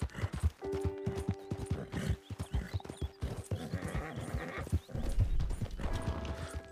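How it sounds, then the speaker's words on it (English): Horse hooves in a video game clip-clop in a steady trotting rhythm, fairly close, with tonal game sounds and an occasional whinny around them. "What are you complaining about, horse?"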